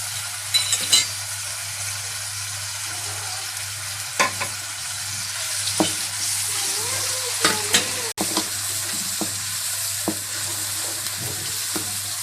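Tomatoes and green chillies frying in a pan for an aloo arvi dish, a loud continuous sizzle broken by sharp spoon scrapes and clicks against the pan at irregular intervals, no talking.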